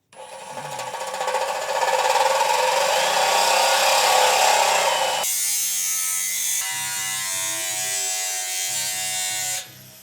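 A power tool cuts holes in a part of a turbo kit on a BRZ/GR86, giving a loud, continuous high-pitched whine that shifts tone midway and then stops abruptly near the end.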